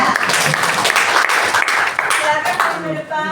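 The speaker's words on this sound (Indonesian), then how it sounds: "Tepuk tangan untuk Aprilia." Loud classroom applause for a student named Aprilia, dense clapping mixed with chatter and voices, tapering off at the end.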